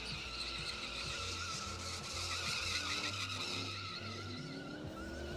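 Drift cars at a drift pit event squealing and skidding their tires, a loud sustained screech layered over revving engines that rise and fall in pitch, heard from a moderate distance.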